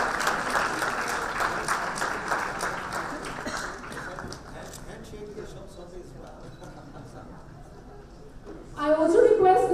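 Audience applause at the Pharma Ratan 2018 award ceremony, a dense crowd clapping steadily and fading slightly before a louder burst near the end, with a voice speaking over it.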